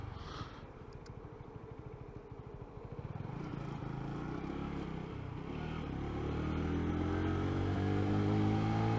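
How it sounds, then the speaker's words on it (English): A motorcycle engine with a low-RPM running problem idles with a rough, pulsing rumble, then slowly revs higher, its pitch climbing steadily toward the end. "I just have to rev it higher"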